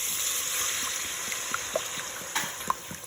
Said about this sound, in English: we're just going to add our whole pint of heavy whipping cream